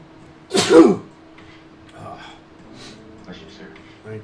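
One sharp, loud sneeze bursts out near the start, followed by quieter speech in the background.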